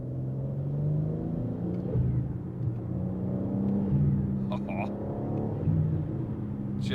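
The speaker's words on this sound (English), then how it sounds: "hopefully the mic picks this up. I'm not sure if it will, but the intake sound, listen." BMW M3 Touring engine with a steady low intake rumble and drone rising and falling slightly over several seconds, heard close, with brief higher whooshes near the end.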